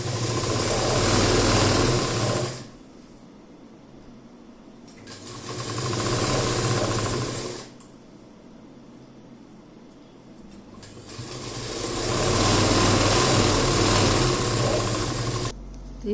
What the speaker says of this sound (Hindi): आधा इंच का मार्जिन रखते रखते हमें पूरे तक सिलाई लगानी है।